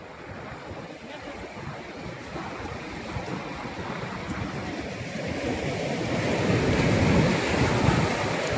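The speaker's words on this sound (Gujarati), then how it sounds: "મિત્રો દરિયો બહુ તોફાની છે અત્યારે," Rough sea waves wash onto Nagoa Beach in Diu, a continuous loud roar of surf and rushing water with wind noise, swelling slightly toward the end, with no voices.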